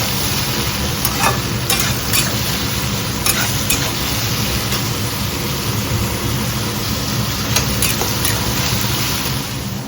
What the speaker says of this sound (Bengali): ঝিঙেটাকে আমি একটু ভেজে ঢাকা দিয়ে দিয়েছি